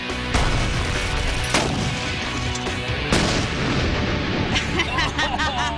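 Double charges of C4 blast a cinder block wall, giving a sharp, loud boom followed by further heavy bangs and debris, then faint voices reacting.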